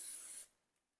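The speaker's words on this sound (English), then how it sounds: "I am going to spray the top because I am going to turn it over" Cooking spray hisses onto the top of a quesadilla in a pan in a single loud, steady burst lasting under half a second, then cuts off to near silence.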